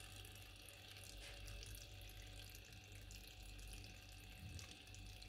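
Steady running water from a household tap into a sink, a faint continuous hiss and patter with no clear separate drops.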